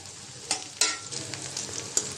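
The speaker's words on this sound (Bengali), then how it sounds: "পেঁয়াজটা একটু হালকা করে ভেজে নেব।" Chopped onion and green chilies fry lightly in oil in a kadai, giving a steady close sizzle broken by a few sharp crackles and stirring scrapes.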